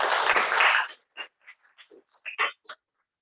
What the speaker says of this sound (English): a big round of applause for Toastmaster Shiv Prasad